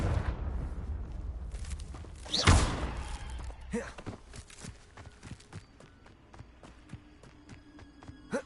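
Confringo blasting spell from Hogwarts Legacy striking with a loud booming impact, followed by scattered thuds and footstep-like knocks at moderate level.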